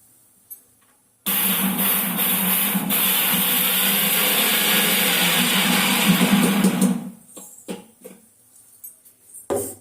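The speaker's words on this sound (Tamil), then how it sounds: "இப்போ அந்த சின்ன ஜாரில் போட்டு அதை பவுட்ரு பண்ணி வந்துட போகிறேன்" A mixer grinder runs in its small jar, powdering spices for mango pickle: a loud, steady whir that starts abruptly, holds for about six seconds and then cuts off, leaving faint clatter.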